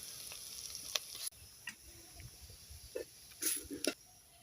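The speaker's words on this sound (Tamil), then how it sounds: "வெங்காயம் தக்காளியெல்லாம் நல்லா வதக்கிட்டு அது கூட மஞ்சள் போட்டு வதக்கிக்கலாம்" Onions and tomatoes with turmeric sautéing in a pan over a village cooking fire, a soft steady sizzle broken by a few sharp scraping stir strokes near the end, with no voices.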